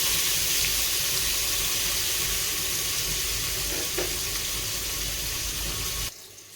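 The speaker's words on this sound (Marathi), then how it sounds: "चला तर आता हे परतून झालंय आता हे कांदा आणि टोमॅटो आपल्याला ह्याच्यात मिक्स करायला टाकायचं" Chopped onion and tomato sizzle in a hot pan, a loud steady hiss with broadband spitting that carries on evenly and then cuts off abruptly near the end, with no voices.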